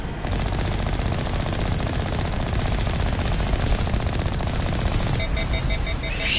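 Sustained rapid machine-gun fire from turrets in the video game Mass Effect Legendary Edition, a continuous loud rattling barrage with a few electronic beeps near the end.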